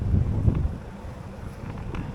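Wind buffets the microphone with low, rumbling gusts on a bitterly cold day while cycling, strongest at the start and steadying into a constant blustery roar.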